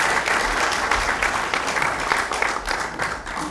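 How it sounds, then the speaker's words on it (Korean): Steady, dense applause from a church congregation at a dedication and founding service in Suwon, sustained evenly throughout as a speaker is welcomed to the front. "큰 박수로 맞이합니다."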